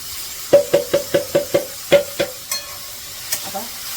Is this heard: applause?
no